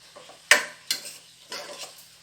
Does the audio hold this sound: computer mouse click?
no